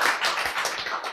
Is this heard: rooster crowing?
no